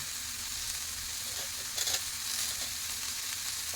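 Tomato sautéing with spices in a pan for a Marathi farsan bhaji makes a soft, steady sizzle with a few brief stirring scrapes and bursts near the middle, quiet and uninterrupted by talk.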